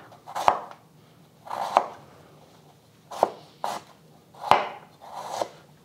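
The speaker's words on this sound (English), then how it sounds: "Slice that up." A knife slicing food on a cutting board while preparing Hainanese chicken rice, six separate close chops with a hollow board knock, spaced unevenly over a few seconds with quiet between.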